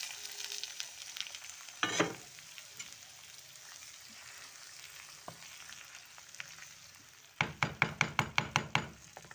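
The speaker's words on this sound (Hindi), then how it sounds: "अब ये हमारा तड़का तैयार है। अब हम इसे डाल देंगे।" Hot oil tempering hisses and sizzles as it is poured into kadhi curry, with a brief burst early on and a loud sputtering, crackling sizzle toward the end.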